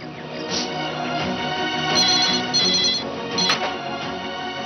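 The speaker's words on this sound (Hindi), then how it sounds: "मिस्टर खान फोन नहीं उठा रहे हैं, कहाँ है वो?" An office telephone rings repeatedly in a steady electronic pattern, loud and close, with no one answering and no voices over it.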